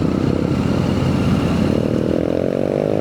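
A scooter on a long-distance road ride from Tacloban to Manila, its small engine humming steadily and close, with the pitch climbing slightly toward the end.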